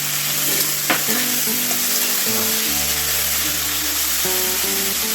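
Green peas and potatoes fry in a hot wok with a loud, constant sizzle. Stirring scrapes and rattles sound close up, and a low background hum sits underneath.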